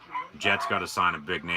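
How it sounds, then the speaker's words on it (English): Dogs barking and yipping in the background of a room while someone talks over them during a live NFL playoff broadcast. "It's just some dogs barking in the background."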